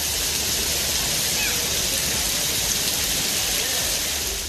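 Heavy rain falls steadily in Thanjavur district, a dense, continuous hiss of downpour at constant loudness with no pauses.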